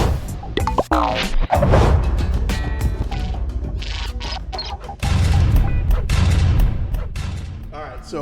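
An All-in-one Eruption firework cake fires off a rapid string of loud pops and booming bursts that carry on continuously, with sharp thumps and crackling between shots.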